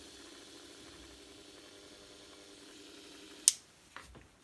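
A Parkside PGS 500 A1 die grinder runs at its lowest speed setting with a faint steady whine and hum that cuts off abruptly, followed by a sharp click and a smaller knock.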